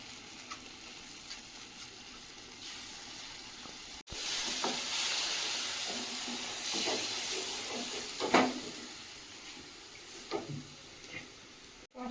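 Onion and garlic paste frying in a hot pan gives a steady sizzling hiss that jumps louder about a third of the way in, with scattered crackles and stirring scrapes and no talking.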